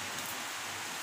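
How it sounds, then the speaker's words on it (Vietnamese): Rain falls steadily outdoors in a rural Vietnamese home setting, a dense, even hiss with no talking during the brief moment. "Rồi bây giờ này ông Nguyên mưa này ông không phải để ý"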